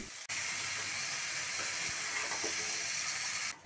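Diced potatoes tossed into a pan where bean seeds and fish are frying, giving a steady, fairly loud sizzle and hiss that starts abruptly and carries on evenly, with faint stirring clatter underneath.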